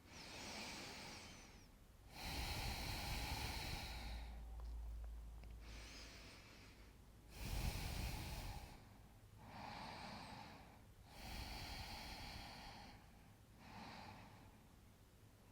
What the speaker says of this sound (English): 2 more belly breaths here